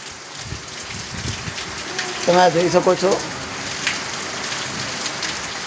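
Steady rain patters on surfaces in a village during a thunderstorm, a continuous close hiss while someone talks briefly over it.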